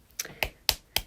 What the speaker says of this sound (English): Okay, I'm clapping for myself because I can't think right now.